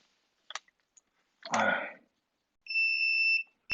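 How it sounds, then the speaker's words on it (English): A few faint clicks and a short crackle, then a clear, steady electronic beep from a shorted circuit on a WRT54G router board, lasting under a second, followed by another click. "It will create a beep."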